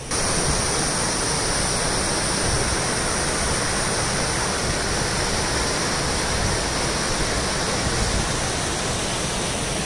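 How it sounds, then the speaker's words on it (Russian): Waterfall in the Carpathian mountains, a dense continuous roar of falling water heard close and loud, steady from start to end with no voices. "Спускаємося к водопаду."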